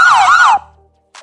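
A siren sound effect inserted in a video edit wails up and down loudly for about half a second, cuts off into silence, then returns as a brief burst at the end.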